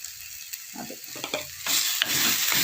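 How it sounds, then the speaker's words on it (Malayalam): Turmeric and cumin powder are stirred in a hot pan, a quiet background sizzle under intermittent scraping strokes that swell into a louder, continuous frying hiss partway through. "ആ പൊടിയുടെയൊക്കെ ഒരു പച്ച മണം മാറുന്നവരെ ഒന്ന് ഇളക്കി കൊടുക്കുക"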